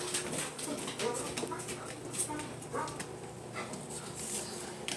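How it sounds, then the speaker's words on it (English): Several neighbors' dogs bark and yip off in the distance, scattered short bursts over steady outdoor background noise, with a few faint whimpers. "what in the world are y'all barking at?"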